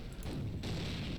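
A booming explosion rumbles in the shooter game Brutal Half-Life, a loud, dense blast whose low roar swells again partway through, heard close and alone without speech.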